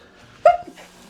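A single short sneeze bursts out nearby in a kitchen, a sharp nasal snap followed by a faint trailing breath, otherwise quiet.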